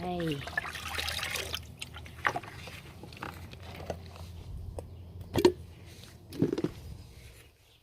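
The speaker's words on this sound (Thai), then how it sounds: "ปุ๋ยหมักแบบน้ำประมาณนี้ ใส่ไป" Liquid compost fertilizer is poured into a plastic planting bag, giving quiet splashing and trickling with a few drips, while someone talks over it.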